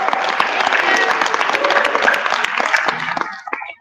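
Dense applause from a conference audience fills the room steadily, a broad wash of many hands clapping at once before tapering off near the end.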